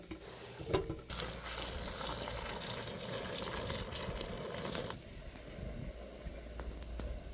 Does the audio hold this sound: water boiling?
yes